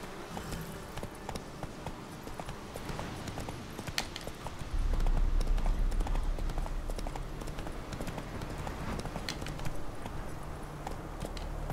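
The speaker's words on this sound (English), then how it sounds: "let's jump back on the horse and get out of here" Clip-clop of horse hooves galloping steadily in The Witcher 3, a continuous rhythmic pounding that grows louder about halfway through, with no talking.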